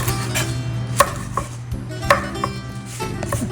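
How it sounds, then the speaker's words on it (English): A knife roughly chops parsley on a cutting board, producing a series of distinct close thuds at an uneven pace over a steady low hum. "And lastly, the parsley. And we chop it very roughly, just like this."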